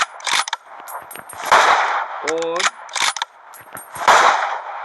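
AMR rifle firing in a video game, sharp loud shots spaced irregularly, each with a metallic ring and bolt-action clatter.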